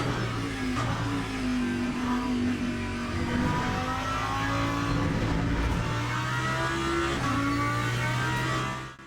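A Lamborghini race car engine in the racing sim Le Mans Ultimate revs steadily and loudly throughout, with rising and falling pitch as it accelerates and shifts, close and continuous with no talking.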